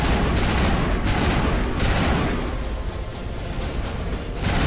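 Dense gunfire in the Mass Effect video game sounds as loud, continuous rapid bursts with brief dips, filling the whole stretch.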